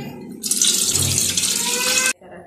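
A short burst of water pouring steadily into a vessel for about two seconds, close and fairly loud, then stopping abruptly.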